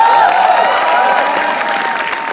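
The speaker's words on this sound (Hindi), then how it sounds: "तालियां प्लीज।" Loud, close audience applause at a comedy roast, a dense burst of clapping mixed with crowd cheering and whistles, sustained at full strength for a couple of seconds.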